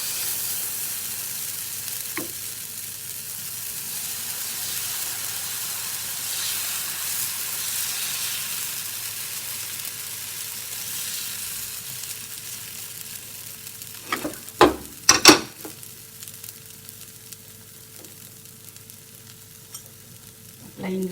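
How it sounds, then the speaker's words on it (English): Moringa dosa batter spread on a preheated dosa stone gives a soft steady sizzle throughout, with a few sharp clatters of a utensil near the end and no voices. "Our dosa stone is heated. It's already hot. I am going to apply the muringa dosa batter."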